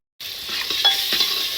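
Chopped tomato and ginger fry with cooked masala in a pan, starting abruptly with a loud, close sizzle and a few soft scraping strokes as the mixture is stirred, with no speech.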